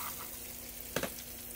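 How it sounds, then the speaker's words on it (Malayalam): Ginger garlic paste fries in a pan with a soft, steady sizzle, quiet throughout, and a couple of brief stirring scrapes near the middle. "നമ്മുടെ ഇഞ്ചി വെളുത്തുള്ളി പേസ്റ്റ് ഫ്രൈ ആയി വന്നിട്ടുണ്ട്"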